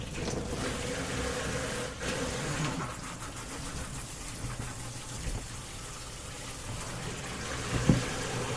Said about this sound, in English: we're going to rinse them in cold water so they stop cooking